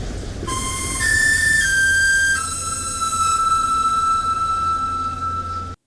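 The Songbird whistle from the video game BioShock Infinite plays as a sustained, bright, multi-toned whistle that shifts pitch twice over a low rumbling backdrop, loud and close, with no voices.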